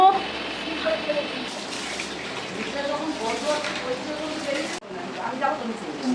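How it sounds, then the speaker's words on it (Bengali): Rice being washed in water in a home kitchen, with continuous splashing and sloshing from start to finish, interrupted by a short break near the end. "চলুন এবার চাল ধোয়ার পালা"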